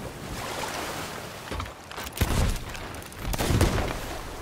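Cannon fire aboard a ship in the pirate video game Sea of Thieves: several heavy booming blasts, with a big one at about two seconds and another near three and a half, over a continuous bed of sea and ship noise.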